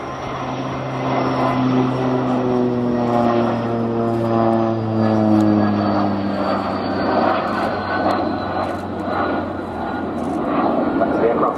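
A Fouga Magister jet trainer flies past close by at the RNAS Yeovilton air show. Its loud, steady engine roar holds for the whole stretch, with the pitch sliding gradually downward as it goes by.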